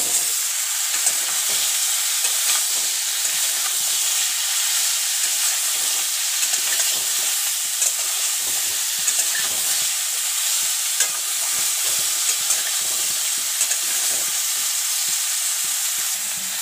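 Chopped bottle gourd frying in hot oil with bay leaves and cumin seeds, a loud continuous sizzle and crackle that holds steady throughout, with faint stirring and no voices.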